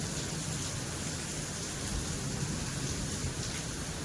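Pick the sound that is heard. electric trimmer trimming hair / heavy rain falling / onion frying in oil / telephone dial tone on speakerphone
heavy rain falling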